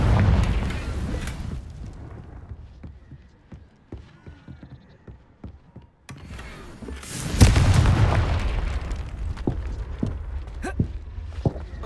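Confringo blasting spells fired in Hogwarts Legacy, heavy booming explosions at the start and again midway, each followed by a rumbling decay, with scattered clicks and footsteps between them.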